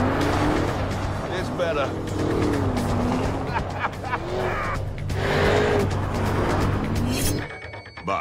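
A Lamborghini Urus spins its tires into a smoky skid, the engine droning and tires squealing in long wavering streaks, with someone talking over the noise and a sharp cut near the end.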